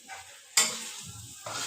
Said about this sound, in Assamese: কলডিলে আলুৱে ভাজিছোঁ।